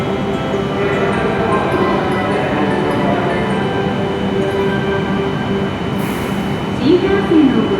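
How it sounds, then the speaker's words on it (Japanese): A Hokuriku Shinkansen W7 series Hakutaka train departs Kanazawa station, a steady electric hum and rumble in the platform's echo that swells slightly near the end, with muffled station sounds around it. "東京行き発車いたします"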